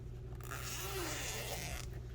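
A zipper on a handmade fabric toiletry bag is pulled open in one quiet, continuous rasp lasting about a second and a half, close and alone.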